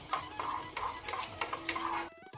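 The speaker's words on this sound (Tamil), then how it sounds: "கறிவேப்பிலை, கொஞ்சம் பெருங்காயம், இதெல்லாம் போட்டு தாளித்து கொட்டி கிளறி விட்டுக்கோங்க" Curry leaves and asafoetida tempering in a home kitchen pan, with a soft sizzle under repeated scraping stirs of a spoon at a steady rhythm, close and fairly quiet.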